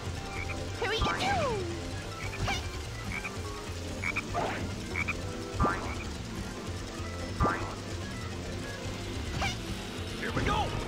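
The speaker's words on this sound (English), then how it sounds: "Hey, there's a frog over there!" Cartoonish frog croaks from the GameCube game Sonic Heroes, several short croaks and a sliding boing-like tone scattered over a steady game soundtrack, with no speech.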